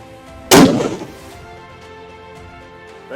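A single loud rifle shot cracks out while hunting zebra at long range in KwaZulu-Natal, South Africa, a sharp close report followed by a rolling echo that fades over about half a second in open country.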